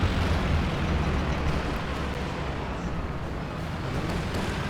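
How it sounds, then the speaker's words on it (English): Sector Assault strike explosions slam into tanks in a video game battle, producing a continuous loud rumble of overlapping blasts that starts strongest and eases slightly. "Now we've got Sector Assault coming in, which is going to be targeting"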